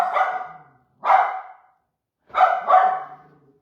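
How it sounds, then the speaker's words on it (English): A dog barks several times nearby, loud sharp barks in short bursts with pauses between, the last two coming close together. "Sorry about the dog."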